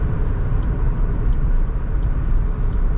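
Inside a car on a driving-test route in Clermont-Ferrand, a steady low engine and road rumble continues as the car slows, with no clear talk over it.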